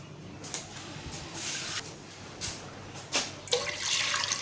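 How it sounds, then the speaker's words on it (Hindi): Water poured into a heated cooking pot while making sweet rice (zarda), a few irregular splashing bursts that swell into a steadier, louder stream near the end, close by and alone without talk. "2-3 गिलास हम पानी के ऐड करेंगे।"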